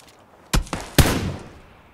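Three gunshots ring out in PUBG, two quick sharp cracks followed by a louder, closer shot whose echo trails off, with no talking over them.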